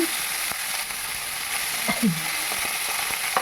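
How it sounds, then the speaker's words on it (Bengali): Steady hiss of tomato pieces frying with salt in a pan for green-pea ghugni, with a few soft scraping clicks from stirring scattered through it. "সামান্য লবণ দিয়ে ভালো করে নেড়ে চেড়ে ভেজে নিচ্ছি"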